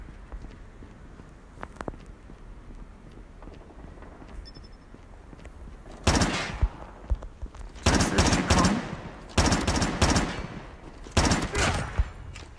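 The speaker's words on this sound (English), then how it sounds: "Three round burst." Repeated short bursts of gunfire from a three-round-burst weapon in the mobile shooter game Call of Duty Mobile, loud and sharp in clustered volleys after a quieter stretch of ambient game sound.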